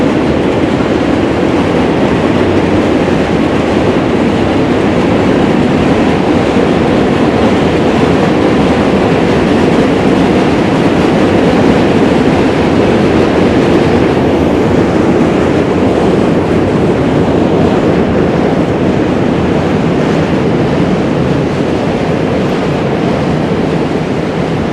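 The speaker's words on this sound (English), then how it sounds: "A train is passing right now." A subway train crosses the Manhattan Bridge in New York City, a loud, continuous roar and rumble of wheels on steel track with rattling clatter that holds steady throughout, heard up close from the bridge walkway with no talking.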